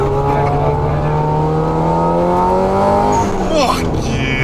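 A 2012 Subaru WRX STI Spec C turbocharged engine accelerating hard, heard from inside the car as a steady, loud engine drone that climbs in pitch through the run, with a brief shift-like dip near the end.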